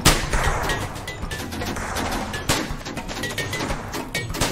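Dense, continuous video game gunfire from a Ned Kelly-themed shootout, with many overlapping shots and sharp transient cracks throughout and no spoken voice.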